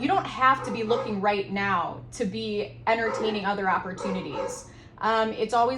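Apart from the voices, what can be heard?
None of the usual background noises is heard.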